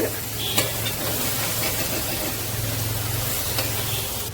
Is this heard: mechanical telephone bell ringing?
no